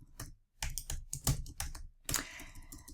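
Rapid typing on a computer keyboard, close and fairly loud, coming in irregular bursts of key clatter with a short pause near the half-second mark and no talking.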